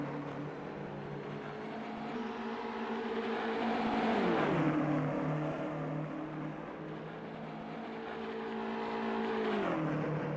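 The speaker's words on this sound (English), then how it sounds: "A couple BMWs here battling it out here at Watkins Glen." BMW GT3 race cars battling for position at Watkins Glen, engines droning steadily in a multi-tone whine, rising and falling through gear changes and downshifts, heard at a moderate distance without any talking.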